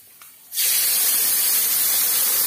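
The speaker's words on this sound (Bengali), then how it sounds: "হলুদের গুঁড়ো, লবণ হলুদ দিয়ে আলু হালকা করে ভেজে নেব।" Small new winter potatoes with turmeric and salt hit hot oil for a mutton curry, and after a quiet moment a loud, steady, hissing sizzle erupts and keeps going.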